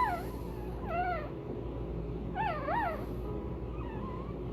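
High, wavering whimpers and squeaks from a newborn puppy, three or four short cries rising and falling, close by over a low steady background hum, during a litter's birth.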